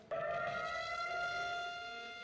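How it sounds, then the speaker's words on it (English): A civil defense siren sounds in Israel for Holocaust Remembrance Day while protesters stand in silence. The steady, sustained wailing tone starts abruptly and holds loud and even throughout, with no voices. "listening to a siren marking another somber date in Israeli history, Holocaust Remembrance and Memorial Day"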